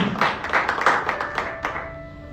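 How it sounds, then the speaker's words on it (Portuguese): Lively applause from a church congregation, steady hand claps filling the room, with a sustained musical tone lingering underneath as the clapping tapers off. "Você pode aplaudir o Senhor por isso?"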